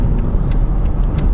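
Mercedes-Benz S-Class W221 (non-AMG) engine roaring, a loud, close, low rumbling drone that stays constant, with faint light ticking on top.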